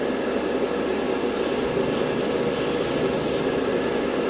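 Chrome spray paint hissing onto a 1/144 Gundam RX-78-2 model kit: several short close bursts from the can in the second half, over a steady airy background noise, no talk.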